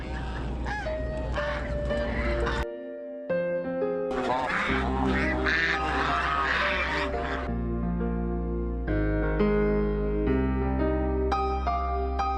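Geese kept on a peony oilseed plantation in Heze, China, honk loudly and repeatedly, several birds calling over one another close by in a continuous, overlapping chorus.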